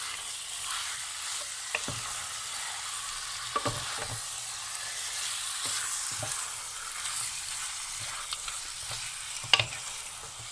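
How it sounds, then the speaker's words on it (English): Spiced lamb sizzles and fries in a pan for a lamb curry, a steady crackling hiss with occasional sharper clinks and scrapes as the meat is stirred and turned. "you leave this here to roast for about 5 minutes, but remember to turn it every now and then so that it cooks and braises evenly"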